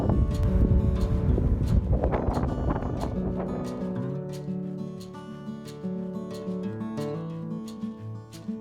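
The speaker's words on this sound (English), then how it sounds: "You can tell it is pretty windy and very cold." Cold February wind gusts through a snowy winter garden, rumbling loudly against the microphone at first, then easing to a quieter, intermittent blow.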